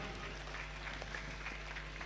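Clapping from an audience at a book launch fundraiser, a soft continuous patter of many hands heard at a distance over a low steady hum.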